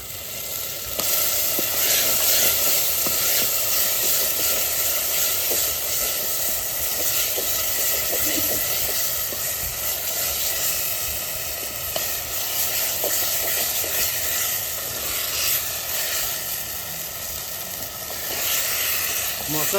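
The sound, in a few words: duck meat sizzling as it is added to spices in a pan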